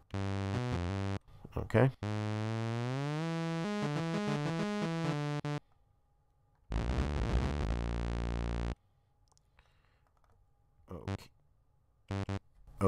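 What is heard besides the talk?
synthesizer sawtooth wave preset in Trooper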